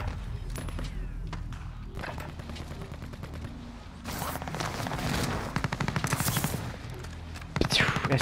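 Rapid automatic gunfire in the video game Call of Duty: Warzone, with loud bursts of closely spaced shots coming in waves over background game noise.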